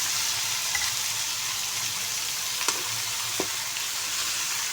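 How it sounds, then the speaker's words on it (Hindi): Chopped tinda gourd fries with onion and green chilies in a pan, a constant even sizzle with a few faint spatula clicks, close and steady, with no voices. "हल्का सा सब्ज़ी को भी साथ हम फ्राई करेंगे"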